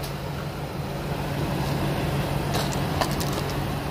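The 5.4 liter gasoline engine of a 2003 Ford F-350XL utility bed truck idles steadily at close range, a low rumbling hum with no talking.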